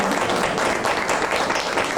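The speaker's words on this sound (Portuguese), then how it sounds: "Vamos dar uma salva de palmas para o nosso Jesus." Congregation applauding at a women's church conference, a steady wash of many clapping hands that carries on evenly throughout, fairly loud and without talk.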